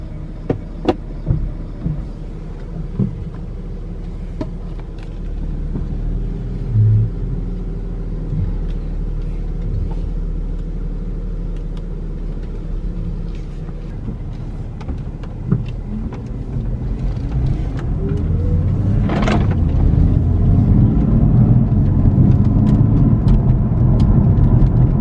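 A BMW F80 M3 drives on the road, its engine rumbling steadily throughout with tyre and road noise, the rumble swelling louder and rougher toward the end as it accelerates.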